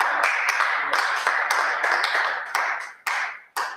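Audience clapping at a panel discussion on Nigeria's future, a crisp patter of hands that thins out toward the end into a few separate claps.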